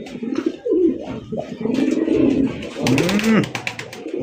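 A male fancy racer pigeon with ten completed feathers coos in a series of low, close, throaty calls, some rising and falling, with brief rustling and a voice speaking faintly in between.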